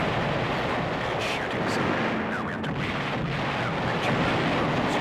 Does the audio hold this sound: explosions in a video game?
yes